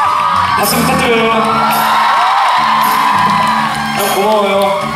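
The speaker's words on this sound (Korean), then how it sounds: "박수 부탁드려요." Concert crowd at a live show whooping, yelling and cheering loudly, a dense wash of voices with bursts of shouting throughout.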